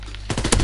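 Rapid gunfire from a weapon in a WWII shooter game, a quick burst of several sharp, loud shots in fast succession following a brief quieter moment, with no talking.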